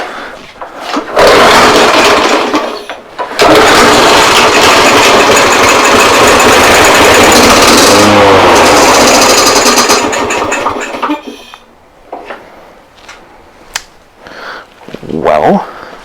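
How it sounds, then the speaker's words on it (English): A lawn mower's small engine sputters, catches and roars loudly for several seconds, then cuts out, followed by scattered metallic clinks and rattles. "it definitely made a weird clink noise"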